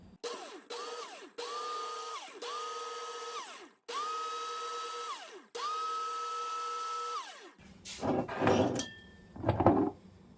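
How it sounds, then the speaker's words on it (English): Dehydrated celery and spices being ground in an electric grinder, several whining bursts of the motor spinning up and down with brief pauses, followed by rattling and shaking of the ground contents, close and clear. "what I'm going to do now is grind all this together."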